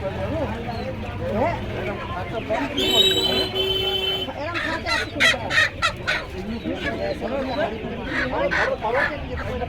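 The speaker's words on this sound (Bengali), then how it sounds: "এই যে দেখতে পাচ্ছ এখানে হাঁস মুরগি সবই আছে" Chickens and ducks cluck and squawk at a poultry market among a noisy crowd, with people talking continuously around them and a brief high tone partway through.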